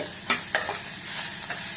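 Chopped onions frying for a potato kurma, a steady close sizzle in the pan broken by a few sharp scrapes and clanks of a spoon stirring, with no voices.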